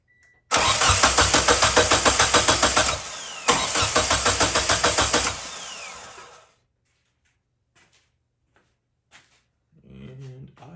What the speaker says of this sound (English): I'm going to crank over the car real quick